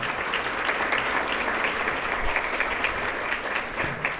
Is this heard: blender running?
no